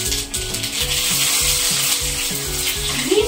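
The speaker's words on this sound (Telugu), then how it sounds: "సో ఆయిల్ హీట్ అయిపోయింది కాబట్టి ఆవాలు వేస్తున్నాను" Mustard seeds crackle and sizzle in hot oil in a pan, a dense, close, loud hiss lasting throughout, with a faint rhythmic thumping underneath and no voices.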